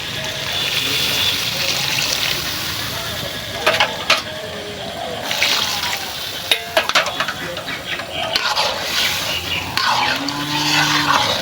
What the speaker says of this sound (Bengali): আমি জল দিয়ে দিই